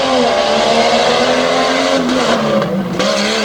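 Tough truck racing on a dirt track during a Renegade Tour event in Selinsgrove, PA, with a loud, steady engine roar that holds through a jump and turn, dipping briefly near the end.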